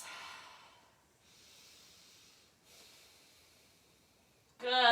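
A few slow, deep breaths are drawn and released quietly during a stretching exercise, with a short burst of voice at the very end.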